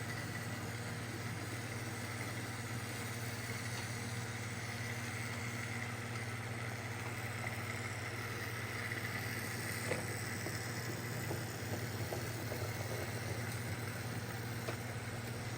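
A mobile jib crane's engine rumbles steadily past houses, a continuous low droning hum that holds an even level throughout with faint mechanical clatter on top and no talk.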